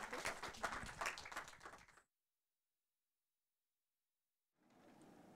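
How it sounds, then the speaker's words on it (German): An audience applauds a film director at a screening event, clapping for about two seconds before cutting to silence, then softer clapping resumes near the end. "Großen Applaus bitte nochmal."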